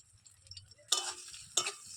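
Black cumin, panch phoron, chopped garlic and chilli fry in hot oil, giving a soft continuous sizzle broken by two sharp, loud stirring scrapes of a spoon against the pan.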